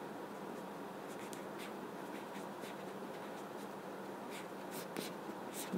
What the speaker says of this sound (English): So I'm going to write the final answer here.